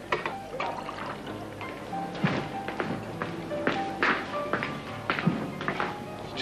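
Water is poured into a glass at a restaurant table, with a steady trickle and scattered taps and clinks of glassware against a busy dining-room murmur.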